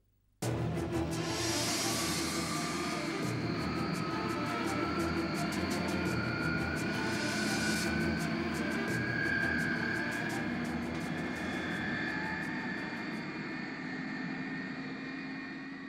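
A film-scene airplane engine roars steadily, loud and close, starting abruptly and holding a continuous droning hum with a slowly shifting whine before easing slightly at the end.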